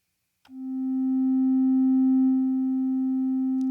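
A synthesizer tone with a very slow attack swells gradually from silence over more than a second, then holds a steady, pure, low-mid pitch at a constant volume until it is cut off.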